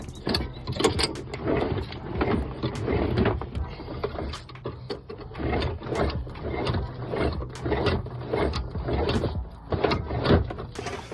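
A fender roller works the fender edge on a lowered Golf GTI VR6, giving repeated mechanical clicks and ratcheting creaks in a steady rhythm, close and moderately loud.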